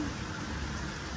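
Rain falls steadily in Kingston, Jamaica, a continuous hiss of drops on surfaces with no clear voices.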